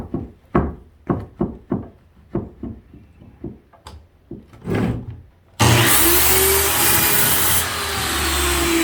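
A wooden shutter board is hand-sawn for trimming, about a dozen sharp, rhythmic rasping strokes close by, after which a loud, steady broadband whir of a power saw takes over.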